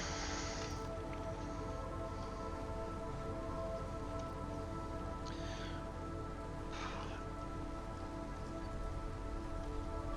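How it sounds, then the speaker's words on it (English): Steady drizzle patters continuously in the video game Against the Storm, an even, faint hiss of rain on surfaces with a few brief squishy taps over the top. "So I do have to survive 30 seconds of drizzle."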